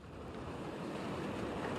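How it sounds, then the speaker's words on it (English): Ocean surf rolls in on the shore at Satellite Beach in Brevard County, Florida, heard as a steady, broad wash of breaking water mixed with wind noise on the microphone, continuous and without talking. "And James, you're starting to see some bigger waves there right now"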